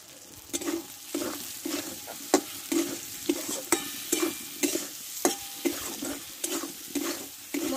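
Spices with turmeric and sugar sizzle in a pan for chana dal while a spatula scrapes and stirs in a regular rhythm, about a dozen distinct strokes over a constant frying hiss, close up with no talking.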